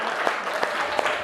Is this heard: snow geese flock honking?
no